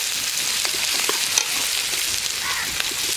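Chopped tomato and chilli paste frying in a pan, giving a loud, dense, continuous sizzle with the faint scrape of stirring, close by and with no voices.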